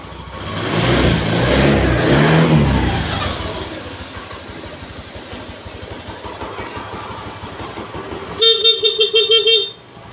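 A fuel-injected Honda Beat scooter engine revs loudly after an injection reset, then settles into a steady idle; near the end a horn beeps in a few short, rapid toots.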